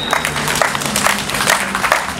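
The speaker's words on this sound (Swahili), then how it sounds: "Makofi 5 niliyaomba," An audience at a district commissioner's gathering with people with disabilities claps in a short, dense burst of applause. It sounds fairly close and steady, with no talk over it.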